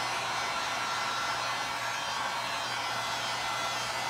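A hair dryer blows steadily on a homemade window pane craft, a wreath-and-ribbon decoration, giving a continuous broadband whoosh with a low motor hum underneath, close and unbroken, with no one talking.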